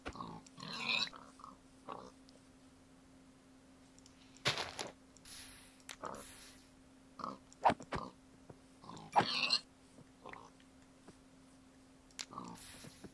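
Minecraft pigs oink in short bursts scattered through the game, mixed with clicks and other game sounds, with a little talk over them.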